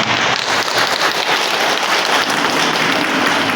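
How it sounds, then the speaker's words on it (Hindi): An audience at a talk breaks into loud, dense applause, many hands clapping together in a continuous rain-like patter that stays steady and close throughout. "एक बार जोरदार ताली बजाइए।"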